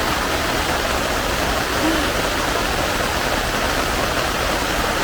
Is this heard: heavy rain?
yes